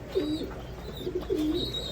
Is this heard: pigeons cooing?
yes